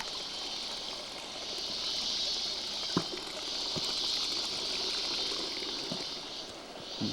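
A small creek in Costa Rica trickles and gurgles steadily at a moderate distance, with a few soft knocks and no talking.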